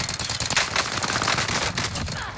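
Rapid automatic fire from a Milano submachine gun in Call of Duty Vanguard Warzone, a dense continuous stream of close, loud shots with no gaps over a couple of seconds.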